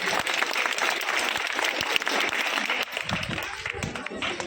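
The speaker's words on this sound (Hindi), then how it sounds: "आप सब तालियों से स्वागत करेंगे" Audience applause at a high school prize ceremony, a continuous wash of clapping from a gathered crowd, steady and fairly loud, with some voices mixed in.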